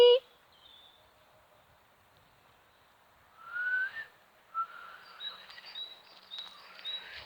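A person whistles to call a dog in short, wavering bursts that rise in pitch, a few attempts close by after a quiet pause.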